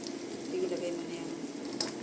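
Chopped garlic sizzles steadily in hot oil in a pan, a continuous close crackling hiss with small pops, and it stays even throughout.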